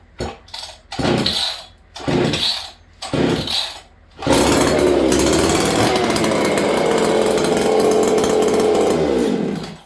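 A reliable work chainsaw is pulled several times with short rasping cranks, then fires and runs at a loud, steady snarling idle close by.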